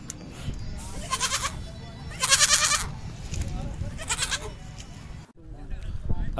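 Goats bleat at a busy outdoor goat market, several loud, wavering calls rising over a constant crowd murmur, with people talking throughout.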